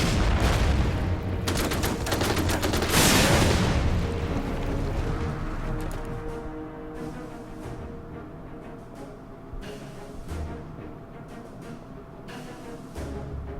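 Gunfire in the Order of Battle: Rising Sun strategy game strikes a 3-inch gun position. Dense bursts of shots come early, then deep rumbling booms roll on and slowly fade, with no voices.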